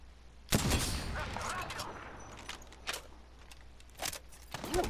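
Sniper rifle shots in a video game, a handful of sharp, separated cracks with scattered echoes and game noise around them, moderately loud, spaced irregularly over several seconds.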